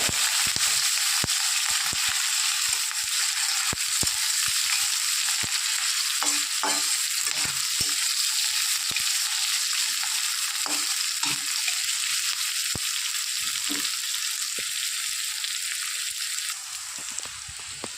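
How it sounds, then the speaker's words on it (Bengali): Chopped garlic, onion and green chilli fry in a pan for a shaapla (water lily stem) dish, a steady bright sizzle running throughout with scattered spatter pops and occasional soft stirring knocks. "হালকা করে একটু ভেজে নিয়েছি রসুন আর পেঁয়াজ।"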